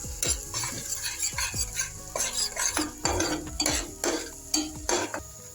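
Egg bhujia being stirred and mixed in a pan, with repeated scraping strokes of a utensil against the metal in an uneven rhythm over a soft sizzle, close and fairly loud, no voices.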